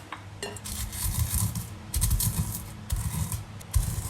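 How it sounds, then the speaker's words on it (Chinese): Crispy fried dried anchovies being pounded in a stone mortar for sambal chili paste, giving repeated dull thuds and gritty crunching in uneven bursts, fairly quiet and with no talking. "我们把这个炸得酥脆的江鱼仔，用这个石臼把它中脆它"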